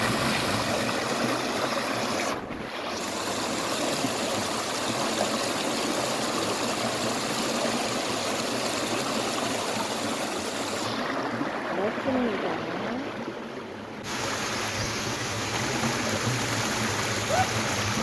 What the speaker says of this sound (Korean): 폭포 소리 들리시죠?